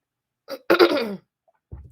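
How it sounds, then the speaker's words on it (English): A short throat clearing, a rough burst followed by a longer raspy rumble, with a faint bit of noise after it. "I keep having to clear my throat"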